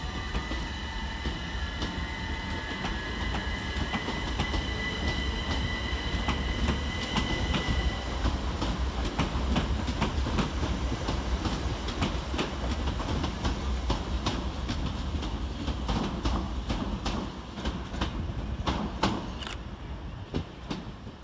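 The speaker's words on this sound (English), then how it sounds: "Parting over on the far side is 377-121 and 377-445, working the 1633 Southern Railway service to London Victoria." Southern Railway Class 377 electric multiple units departing Eastbourne station, with continuous rolling rumble, rhythmic clickety-clack of wheels over rail joints and high squeals, heard at moderate distance for about twenty seconds without speech.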